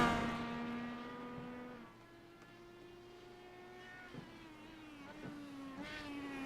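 IndyCar race cars in the iRacing sim at Long Beach, a high-pitched engine whine gliding down then holding steady with a few sharp clicks, fairly faint with no voices.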